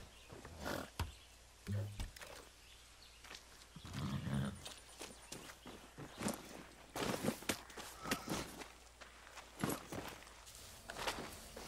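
A horse in the video game Far Cry 6 makes irregular hoof steps, snorts and short neighing bursts that come and go at a fairly low level.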